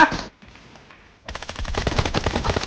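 Gunfire in PUBG Mobile: a brief burst, a pause with faint background noise, then a sustained rapid volley of automatic shots, loud and close.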